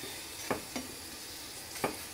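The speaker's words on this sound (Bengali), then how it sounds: "যেহেতু আমি এটাকে তেল দিয়ে ভাজছি" A palm paratha fries in oil in a pan with a faint, continuous sizzle, broken by three brief soft taps as it is pressed and moved.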